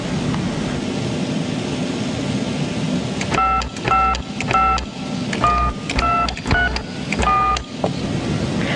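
Telephone keypad tones entering a phone number, a run of about eight separate touch-tone beeps in uneven bursts, some quick pairs and some spaced out, clear and close over a low rumbling background with no voice.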